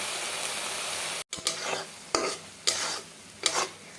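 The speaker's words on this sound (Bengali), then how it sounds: "মরিচটা দিয়ে ভাজা ভাজা করে নিচ্ছি।" Green chillies fry in oil with onions in a pan, a constant loud sizzle broken by a brief gap and then four scraping stirs spaced about half a second to a second apart.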